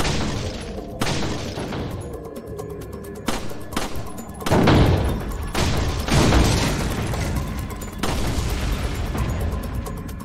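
Bolt action rifle shots in the Resident Evil 4 shooting gallery ring out as a series of sharp, loud booming reports spaced a second or two apart, each with a short ringing tail, with no talking.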